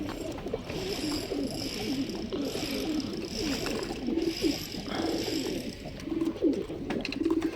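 Several pigeons coo in a dense, steady chorus at a home breeding loft, soft repeated rolling calls overlapping throughout, with a faint voice underneath at times.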